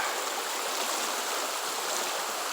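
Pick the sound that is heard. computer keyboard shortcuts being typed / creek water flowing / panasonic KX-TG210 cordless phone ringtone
creek water flowing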